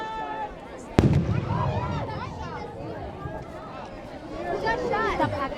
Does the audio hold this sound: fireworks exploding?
yes